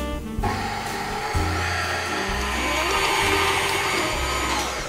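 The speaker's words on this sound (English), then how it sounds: "Now we're going to add the dry ingredients into the mixer." An electric mixer blending dry ingredients into cookie dough, a loud, close, steady motor whir with a pulsing low churn as the beaters work through the mix.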